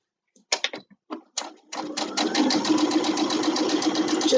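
Domestic sewing machine stitching a large amount of fabric, starting with a few short bursts of needle strokes, then running into a steady, loud mechanical whirr and rapid tapping close by.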